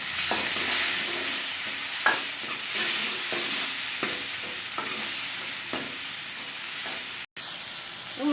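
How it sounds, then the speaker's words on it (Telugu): Tomatoes, onions and chicken frying in a pan for a drumstick chicken curry, a steady hissing sizzle broken by regular spatula strokes against the pan roughly every second, with no talking. "ముందుగా టమాటాలు, ఉల్లిపాయలు వేయించుకున్నానండి"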